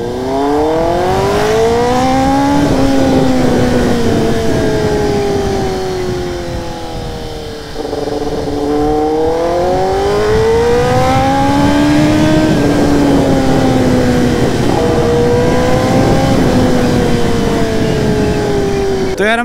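Benelli TNR motorcycle pulling hard on a ride, its engine revving loud and close through repeated rising and falling sweeps as the rider works through the gears, with a brief dip in the middle.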